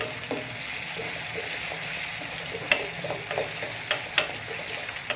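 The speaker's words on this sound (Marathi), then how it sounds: "एक सोनेरी रंग येईपर्यंत आपल्याला त्याला फ्राय करून घ्यायचा आहे" Finely chopped onion frying in a pan until golden, giving a steady, soft sizzle with occasional light scrapes and clicks as it is stirred.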